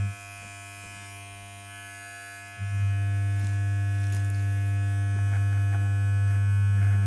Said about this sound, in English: So this is how it sounds now.